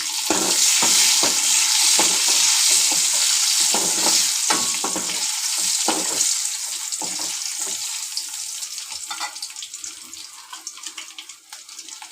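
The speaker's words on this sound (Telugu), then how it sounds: "ఎల్లిగడ్డలు ఎర్రగా వేగిపోవాలి" Garlic and onions frying in oil for a tempering, with mustard seeds and cumin, for a cucumber dal: a loud, steady broadband sizzle with occasional stirring clatter that gradually softens toward the end, no talking.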